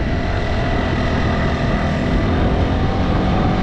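A Maddog Gen 1 50cc motorbike engine held at full throttle on a highway, a loud, continuous buzzing drone with heavy wind rush, steady throughout.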